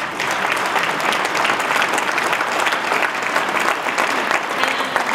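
A large audience applauds steadily, dense clapping filling the whole stretch at a fairly loud level.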